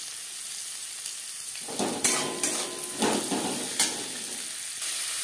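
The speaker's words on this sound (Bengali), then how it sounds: "ডিম ভেজে নেওয়া কড়াইতে আবারও তেল দিয়েছি, দিয়ে দেব পেঁয়াজ কুচি।" Chopped onions hitting hot oil in a kadai used earlier for frying eggs, a sudden loud sizzle followed by several sharp clinks and scrapes of stirring, close and without speech.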